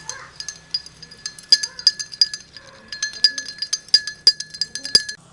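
A metal spoon clinks repeatedly against a glass of salt water in quick, uneven taps while stirring, close and bright, with a faint voice underneath.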